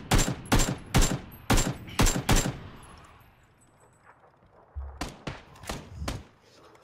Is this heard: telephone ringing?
no